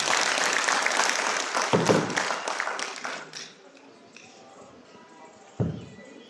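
Audience applause at a stage event rises at first, then fades away within a few seconds, leaving a quiet room with a few scattered taps and a lone thump.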